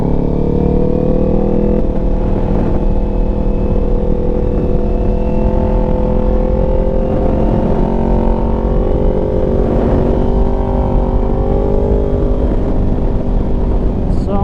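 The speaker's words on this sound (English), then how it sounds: "Acceleration is what really matters on a bike, especially in the back roads. The faster you can come out of a corner and just rip on it" Loud, close engine note of a motorcycle with TST V2 stacks exhaust pulling hard out of a corner on back roads, a continuous roar whose pitch rises and steps through gear changes as it accelerates.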